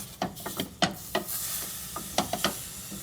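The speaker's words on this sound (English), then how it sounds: "We're going to stir it around." Smothered chicken is stirred in a pan, giving a series of short scraping clicks of utensil against the pan at an irregular rhythm over a faint sizzle, close and quiet, no voices.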